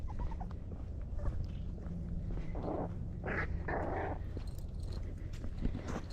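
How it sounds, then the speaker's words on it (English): A puppy whimpers and grumbles in a few short bursts over steady low rumbling noise and scattered handling sounds at a campground. "I have to adjust the puppy. She's not happy, as you can hear."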